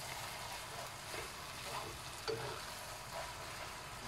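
Fried yellow noodles get stirred in a pan, giving a soft, steady sizzle with faint scraping and clinks from the utensil, quiet and close.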